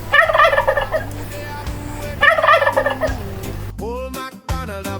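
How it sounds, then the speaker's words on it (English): Turkey gobbling on a farm: two loud, rapid warbling gobble bursts a couple of seconds apart, followed by a shorter, clearer call near the end, heard up close with no talking. "Turkeys say."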